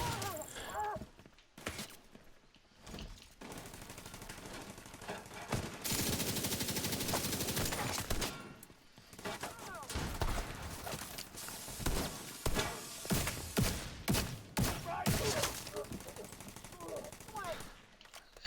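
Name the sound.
gunshots in a video game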